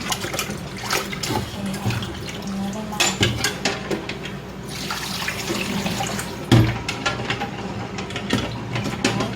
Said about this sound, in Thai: เราก็เปิดน้ำค่ะเพื่อให้ดันไส้ขึ้น